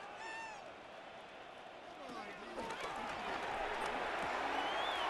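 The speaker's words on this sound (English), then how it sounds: "that might be exactly what they needed to wake up this home crowd" Home crowd at an NFL game, Tampa Bay Buccaneers against Seattle Seahawks, rising into a broad, steady roar of cheering that swells louder toward the end, with a few whistles and a commentator talking over it.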